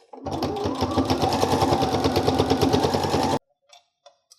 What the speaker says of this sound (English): I'm going to sew closed my bias tape now using a 1/4 inch seam allowance